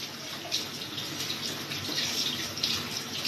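Running tap water pours steadily as aloe vera leaves are rinsed under it, a continuous close hiss and splash with no talking.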